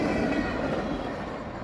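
A Norfolk Southern freight train led by three EMD locomotives in Notch 8 rolls past at sunset, a loud, dense rumble of engines and wheels that stays steady throughout.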